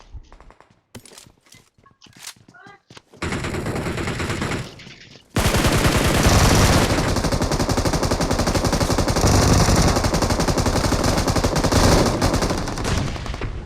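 Loud, sustained automatic gunfire from a battle royale shooter, preceded by scattered shots and brief pauses, then continuous rapid bursts dominating the whole second half at close range.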